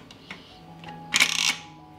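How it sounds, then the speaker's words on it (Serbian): The lid of a pressure cooker holding jars is closed: a few light clicks, then a short, sharp metallic rattle and clack up close, with nothing else around. "Zatvorit ću ekspres lonac"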